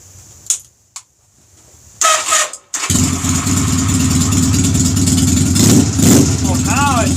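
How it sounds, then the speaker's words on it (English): A Honda Rebel motorcycle with carburetor trouble cranks with a couple of short clicks and starter whirs, then catches and settles into a loud, steady close idle with a brief voice over it. "Let's see if this Honda starts up again."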